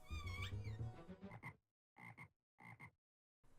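A creepy frog monster in the PlayStation 1 game Hellboy: Asylum Seeker lets out a deep, drawn-out croak, then three short guttural croaks separated by silences, fairly faint.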